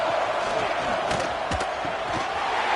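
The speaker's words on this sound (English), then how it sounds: "this home crowd is fired up and ready to make a difference today" Home crowd at a college football game between Texas A&M and the University of Texas, a steady distant roar of cheering and shouting that runs throughout, with a few sharp thuds on top.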